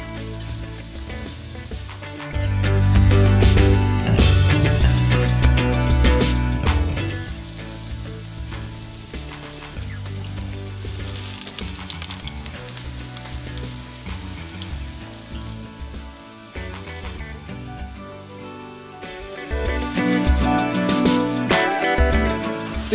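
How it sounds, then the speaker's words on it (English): Salt fish fritter batter sizzles and crackles in a hot pan, a loud continuous frying hiss that swells and settles with a few stirring clatters. "we're going to add our batter to the frying pan."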